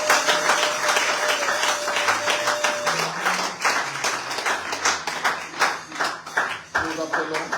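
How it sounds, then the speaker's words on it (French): A congregation at a prayer retreat claps and cheers loudly, a dense, continuous wash of applause filling the room for several seconds while a voice calls out over it. "Est-ce que nous pouvons acclamer très fort?"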